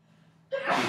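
A single sudden sneeze in a lecture hall, a short sharp intake of breath followed by a loud, close burst that ends the brief moment.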